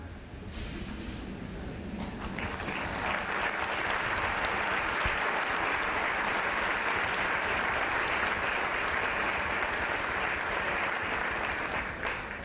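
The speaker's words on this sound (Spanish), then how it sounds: "Los aplausos van para el viejo cuento tan sabio." An audience at an ethics lecture in Lima, Peru breaks into applause that swells after a couple of seconds into a sustained, even wash of many hands clapping, holding steady for over ten seconds.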